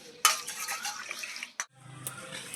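Neem leaves are washed by hand in a plate of water, giving soft sloshing and splashing with a sharp clink early and a brief pause midway, then a quiet rustling drip.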